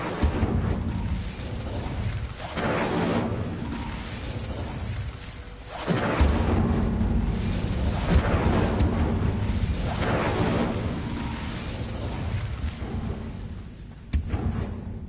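Fire spells blast in Hogwarts Legacy: repeated booming whooshes and crackling bursts come in loud, rolling waves, separated by brief dips, with a sharp crack near the end.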